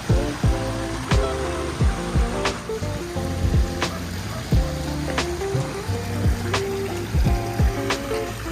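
Water splashing and trickling continuously in a garden water feature built from an old Ford truck, with regular thumping knocks recurring about once a second throughout.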